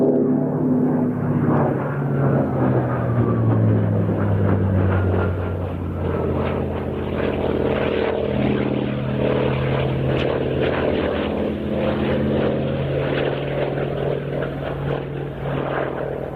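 A Hawker Sea Fury propeller fighter flies at the IWM Duxford airshow, its piston engine and propeller making a loud, continuous droning roar with a slowly shifting pitch as it passes, and no voices.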